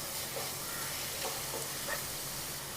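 Onions sautéing in a pan while making chicken cutlets, a soft, continuous, faint sizzle with a few light stirring scrapes, heard alone.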